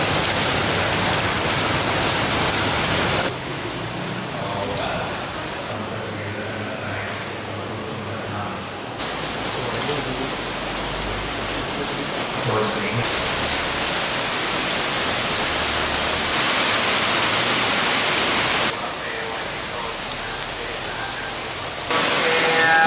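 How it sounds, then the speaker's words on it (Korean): Steady rain begins falling at Wat Paknam Phasi Charoen, a roofed temple with a marble-paved courtyard near the Chao Phraya River, a dense, even hiss that shifts in level as it continues for the whole stretch with no voices. "비가 오기 시작합니다"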